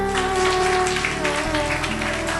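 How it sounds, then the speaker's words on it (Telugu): A congregation claps together at a Christian prayer gathering, steady applause running throughout beneath sustained music. "చప్పట్లు కొట్టండి అందరూ."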